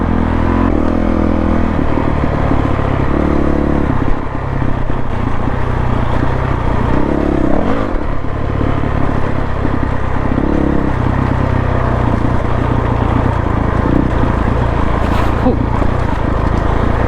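Dirt bikes such as a Honda CRF450L and KTM 690 Enduro ride over a rocky trail, a steady loud close engine drone with clattering bumps and brief rev changes, no pauses.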